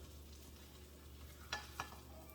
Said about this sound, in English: Can y'all hear that sizzle?